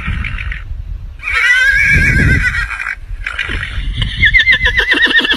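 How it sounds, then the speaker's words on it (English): A horse neighs loudly and close by in several shrill, quavering whinnies, with soft thuds and shuffling underneath. "Play this sound and see how your horse reacts."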